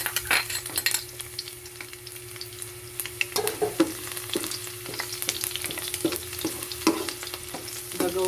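Garlic frying in leftover fish oil for sweet and sour tilapia, a soft steady sizzle with a faint hum beneath and a series of sharp stirring clinks and scrapes, nearby and unaccompanied by voices.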